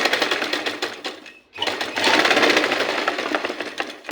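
A sewing machine stitches on paper in fast, rhythmic bursts, close and loud, with a short pause partway through before the needle resumes its steady chatter.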